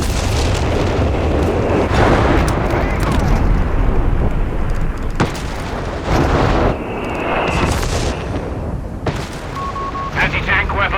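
Artillery fire in the strategy game Company of Heroes 3: repeated heavy booms and bursts roll over a dense wash of battle noise, with radio-style unit voices talking over the barrage.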